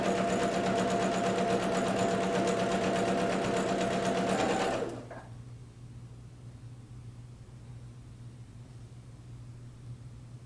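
Sewing machine running at a short 1.8 stitch length along a quarter-inch seam on a star quilt block, a steady close whir for about five seconds that then cuts off to quiet room tone.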